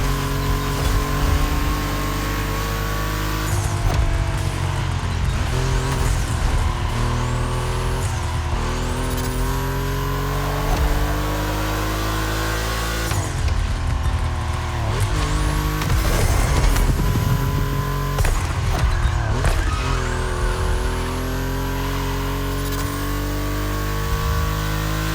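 Volkswagen race cars circle a track, engines droning loud and close with rising and falling revs as cars pass one after another, with no talking.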